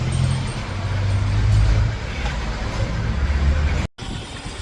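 A car being driven, its steady low engine rumble and road noise filling the cabin with a brief dropout near the end; no one speaks.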